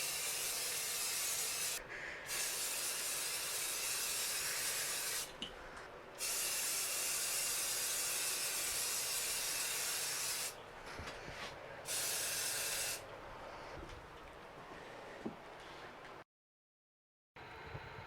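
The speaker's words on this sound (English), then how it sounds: "Spray paint it one more time." Black spray paint hissing from an aerosol can onto a homemade wooden hand guard for a Henry AR-7 .22 rifle, in several long bursts separated by short pauses, loud and close.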